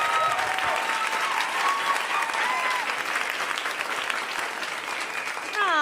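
Steady applause from a comedy club audience at a stand-up show fills the whole stretch, dense clapping with some whoops and cheers mixed in, fading slightly toward the end.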